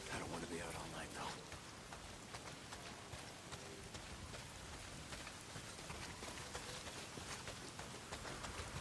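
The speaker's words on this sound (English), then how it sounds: "Well, not if it's pissing down rain." Heavy rain pours steadily in the Days Gone video game, a dense, continuous hiss of drops on surfaces at fairly low volume, with voices talking faintly over it.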